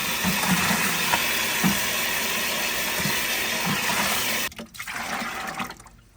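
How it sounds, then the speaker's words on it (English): Water pours steadily and loudly into a bucket for mixing kitchen-waste organic fertilizer, a continuous rushing splash that breaks off near the end into a few softer sloshes. "Now we're gonna mix it with more water."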